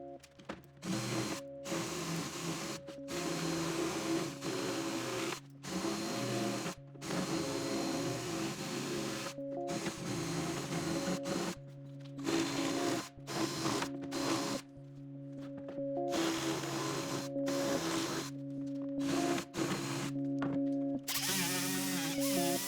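A handheld power tool whines steadily as it trims aluminum fuselage skin on a RANS S-21 kit aircraft, running in long bursts broken by short silent pauses, close and alone with no talking.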